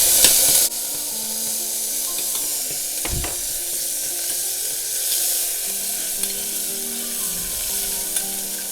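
Ginger and garlic sizzling in brown bean chili paste in a hot pan, a steady close crackling hiss with soft stirring scrapes and a brief clack, no voices.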